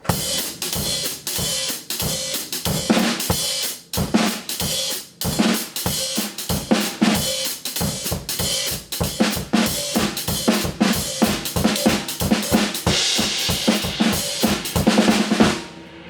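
A drum kit hi-hat ticks out a steady, swinging jazz pattern of crisp metallic hits, close and fairly loud, with no talking.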